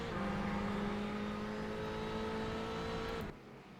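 Ferrari race cars lapping Sonoma in iRacing, a steady engine whine holding pitch at high revs before cutting off abruptly near the end, moderately close and alone.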